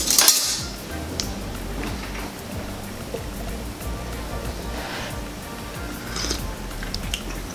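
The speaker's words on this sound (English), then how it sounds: "Give it a stir." A spoon stirs a pot of Trinidad corn soup. One bright clink of metal against the pot opens it, followed by a continuous soft churning, scraping wash at a close, moderate level.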